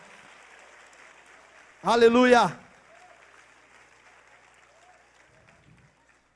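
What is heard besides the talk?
congregation applauding in church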